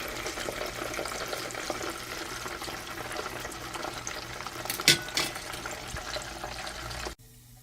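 Skinless sausage frying in grease, a dense continuous sizzle and crackle close by, with a brief louder clatter near the end before it cuts off abruptly to near silence.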